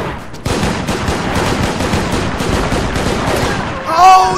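Rapid gunfire in a town siege in the Parabellum mod of Mount & Blade Warband, dense overlapping volleys of shots in a continuous loud clatter, with a brief electronic tone near the end.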